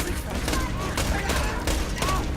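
Automated turrets in a video game fire at enemies, a dense, continuous stream of rapid gunfire bursts that carries on through the whole stretch. A voice sits faintly under the shooting.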